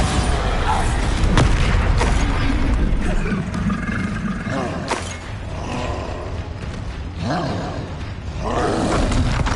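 The Bombarda blasting spell explodes in the video game Hogwarts Legacy, a loud, dense rumbling boom with roaring, creaking debris under a continuous layer of combat noise and booming bursts.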